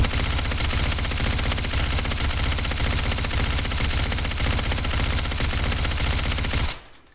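Sustained automatic rifle fire through a HUXWRX suppressor in a shooter video game, a loud, unbroken stream of rapid shots running nearly seven seconds before stopping abruptly.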